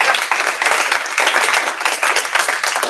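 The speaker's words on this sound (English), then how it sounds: "let's give him a round of applause" A town hall audience applauds steadily with dense, continuous clapping that stays loud and even for the whole stretch, with no talk over it.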